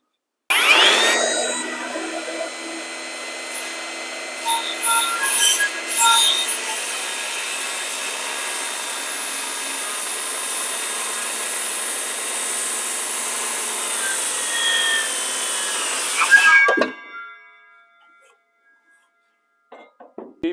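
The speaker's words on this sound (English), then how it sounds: "And we'll cut that one and see how it turns out" A Ridgid cordless circular saw, set at 45 degrees, cuts rough wood with a loud, sustained whine for about sixteen seconds. It spins down as the cut ends, followed by near silence.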